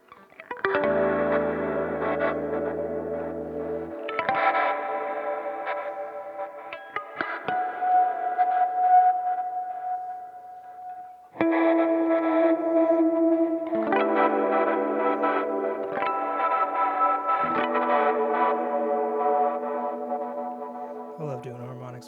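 Guitar harmonics through a Walrus Audio Mako R1 hall reverb pedal, bell-like chiming tones ringing out in long washy sustains, a few separate phrases with brief gaps, no talking.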